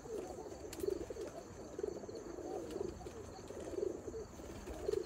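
Soft, low cooing from a young female Dhur Dhur pigeon in a loft, repeating roughly once a second in a steady rhythm against a faint hum, with no voices.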